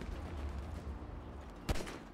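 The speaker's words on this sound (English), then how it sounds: "Oh, he's shooting at me." A single sharp gunshot in GTA NoPixel roleplay cracks out near the end over a steady low rumble of background noise, with a second faint pop right at the close.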